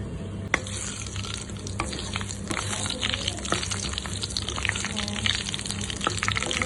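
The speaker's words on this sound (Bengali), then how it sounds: "তার মধ্যে আমি আবার সর্ষের তেল দিয়ে দিলাম। তাতে আমি দেব কিছু গোটা গরম মশলা দিয়ে দেব।" Whole spices (bay leaf, cloves, cinnamon, dried red chilli and cumin) fry in mustard oil, a close steady sizzle with intermittent scraping and stirring knocks, plus a sharp clack near the start.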